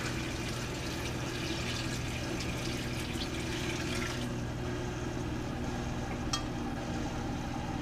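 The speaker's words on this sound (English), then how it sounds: "So I'm adding some water" Steady rushing of water pouring into an aquarium sump, a continuous broadband wash with a low hum underneath and a brief clink near the end.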